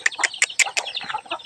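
Hens cluck in short, quick bursts at a small backyard coop holding hens, ducks and a rooster, several close, sharp calls in a rapid choppy sequence.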